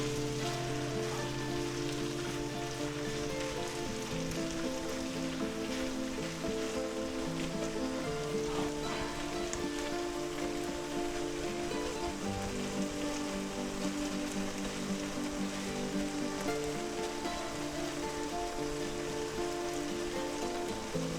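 Frittata egg mixture cooking in a pan, its liquid steadily evaporating, with a continuous soft sizzle that stays even and unbroken, though a sustained tonal hum runs underneath.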